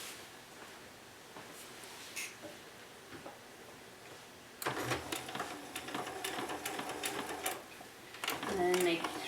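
A sewing machine runs a quarter-inch seam in green fabric with purple thread, backstitching to lock it. A quiet, sparse start gives way to steady, close stitching from about midway, with a voice talking over it.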